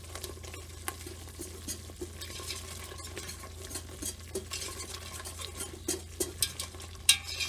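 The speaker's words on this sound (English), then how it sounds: "And again, whisking everything together." Tomato paste is whisked into a wood-fired seafood bisque, giving a soft, rapid patter of whisk strokes against the pot over a faint sizzle, quiet and close, with no talk.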